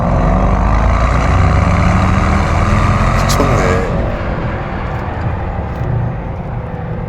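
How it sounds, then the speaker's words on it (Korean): Mercedes-AMG S63 E engine and exhaust in Sport Plus mode, a loud, steady rumbling roar that builds under acceleration, then eases slightly partway through, with a brief spoken exclamation over it. "S 플러스로 바꾸면 뒤에서 와 배기음부터가 우르르 하고 있는데 빨리 달려달라고 하면 안 달라는 듯한 그런 소리를 들려줍니다"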